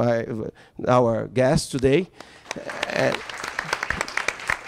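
Someone speaks briefly, then audience applause for guests at an oil industry session swells up and continues as scattered, moderately loud clapping to the end.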